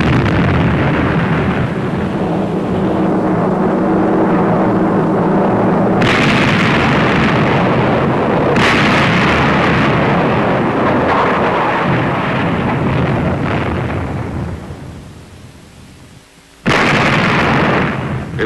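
The big guns of the battleship USS New Jersey fire broadsides, heard as very loud, sustained roaring blasts with a few sharp onsets, a rumbling blast that dips briefly before another boom hits.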